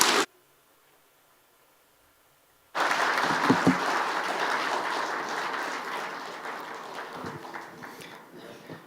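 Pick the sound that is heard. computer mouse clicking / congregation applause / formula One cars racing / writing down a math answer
congregation applause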